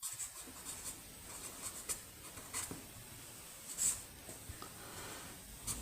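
A pen scratching steadily across paper at close range as an algebra solution is written out, a soft continuous scribble with light strokes and taps and no voice.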